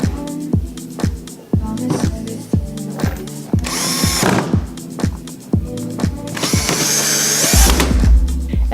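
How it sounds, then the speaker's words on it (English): A power drill driving screws to fasten the rear panel onto a homemade Bluetooth boombox speaker, with repeated short ratcheting whirs in a regular rhythm and two longer high-pitched spins, close and loud. "All we have to do is to screw in the rear panel."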